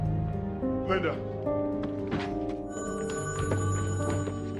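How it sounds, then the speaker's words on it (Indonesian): A telephone rings in steady repeated tones amid a music score, with sustained instrumental notes and a soft background swell throughout. "Tiba-tiba terdengarlah bunyi telepon di mana Chris telah mendapatkan telepon dari"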